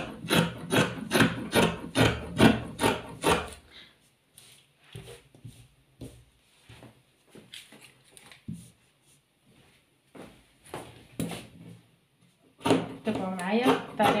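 Scissors cut velvet fabric along a drawn pattern, a run of rapid crisp snipping strokes, then quieter intermittent cutting and handling, ending in another dense burst of snips.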